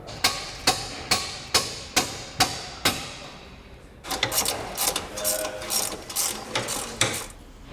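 Ratcheting as a bolt is tightened on a Ferrari F355 during restoration: a steady run of sharp, evenly spaced clicks, then a busier stretch of faster, overlapping mechanical clicks and clatter nearby.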